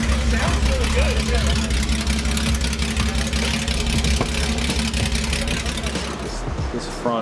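A Porsche 911 SC engine idles steadily and close by in a workshop, a low rumble with a faint knocking undertone that runs unbroken throughout while people talk over it.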